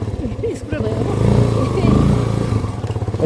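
A close two-wheeler engine putters and rises in pitch as it rides, with clattering and voices talking over it.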